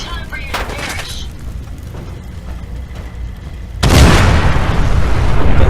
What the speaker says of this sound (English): The legendary ones explode